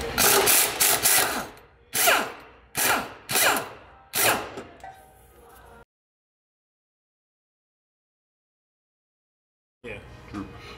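A power tool whirs in several short loud bursts while removing a sway bar link bolt on a Mercedes Sprinter, then a long silence before faint mechanical noise returns; a person speaks briefly.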